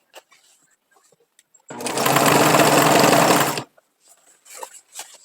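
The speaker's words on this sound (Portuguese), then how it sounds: "E agora eu continuo costurando normalmente." A sewing machine stitching fabric strips into a rag rug runs in one loud steady burst of about two seconds, with faint handling clicks and rustles of cloth before and after.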